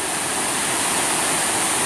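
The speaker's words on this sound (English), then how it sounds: "Sydney cooling off in Bright Angel Creek and washing some clothes" The water of Bright Angel Creek in the Grand Canyon rushes steadily and loudly nearby, a dense, unbroken wash of flowing sound with no voices.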